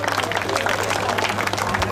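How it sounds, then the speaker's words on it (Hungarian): Applause from a crowd at an endurocross race in Szandaváralja, clapping for the category winners, a dense steady patter of many hands with a low hum beneath and no voices over it. "még egyszer egy tapsot, gratulálunk"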